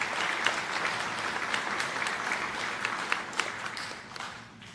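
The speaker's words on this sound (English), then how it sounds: "So please give yourselves a round of applause." An audience at a high school class day ceremony claps in sustained, even applause, moderately loud and slightly reverberant, with scattered sharper claps and a gradual fade toward the end.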